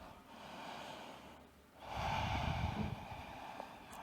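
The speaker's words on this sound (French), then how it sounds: "On va rester ici pour une respiration profonde." A single deep breath taken while holding a yoga downward-facing dog pose in a vinyasa core-strengthening class: a soft inhale swelling into a fuller, louder exhale, close and unaccompanied by speech.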